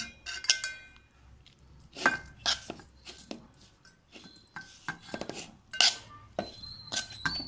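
Spoon stirring paneer curry ingredients in a pan, giving a run of close, sharp metallic clinks and scrapes in irregular bursts, with no talking.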